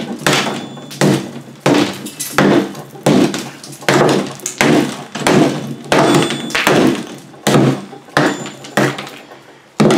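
A hammer strikes a granite block while its face is being dressed, landing about a dozen sharp, evenly spaced knocks at a steady rhythm, each close and loud with a brief ringing decay.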